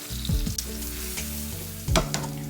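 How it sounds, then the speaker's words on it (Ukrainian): Button mushrooms sizzle and crackle steadily in a hot pan, with a couple of brief scraping stirs; no voices. "тепер нам потрібно обжарити наші шампіньйони"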